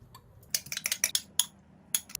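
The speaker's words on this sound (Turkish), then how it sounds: "Önce sosunu hazırlamak için karıştırma kabına 2 yemek kaşığı yoğurt alıyorum" Spoon scraping and clinking against a mixing bowl while yogurt is scooped in, a quick series of bright close taps and scrapes spread over about two seconds, with no talking.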